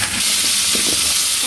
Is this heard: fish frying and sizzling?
yes